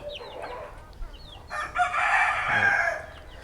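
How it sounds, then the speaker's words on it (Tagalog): Several chickens cluck and one crows loudly partway through on a small farm, with faint high peeps from chicks in the background, close and busy with no talk. "Ito sila, yung update sa ating mga sisiw."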